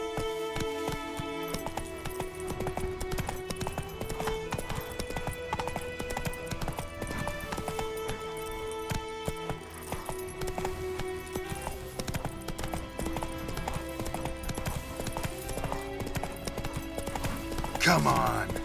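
Roach, a horse in The Witcher 3 video game, clip-clops along in a steady hoofbeat rhythm beneath loud, continuous game music, with a brief rising whinny-like sound near the end.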